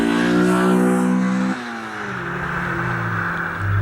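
A JDM Honda Civic Type-R with a 1.8L stroker VTEC engine revs loudly up close. A rich, rising engine note holds, drops sharply, then settles into a lower drone before picking up again.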